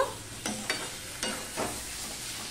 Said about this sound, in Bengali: আর একটুখানি টমেটোটা নরম হওয়া পর্যন্ত আমি একটুখানি কষিয়ে নেবো বা রান্না করে নেব